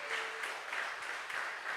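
Church congregation applause during a sermon, a dense wash of many hands clapping at once, fairly distant and steady throughout.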